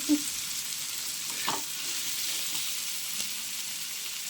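Chili, turmeric and salt fry in hot oil in a pan for egg bhurji, giving a steady close sizzle with a few soft stirring scrapes and no voices.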